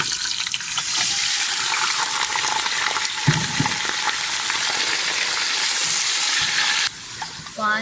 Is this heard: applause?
no